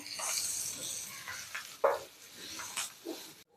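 Potatoes with salt stirred in a cooking pan, giving short scraping and shuffling strokes in irregular bursts over a soft sizzle, close and fairly quiet, with no talking.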